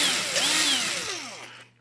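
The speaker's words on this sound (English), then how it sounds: "I'm going to take a small drill bit and go boom and boom." A power drill with a small bit cutting through the clear coat on a pinball playfield, a close whine that sweeps up and down in pitch before winding down at the end, with no voices.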